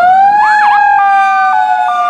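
A loud, close electronic fire truck siren from a toy fire engine, wailing up and down in pitch with sustained tones.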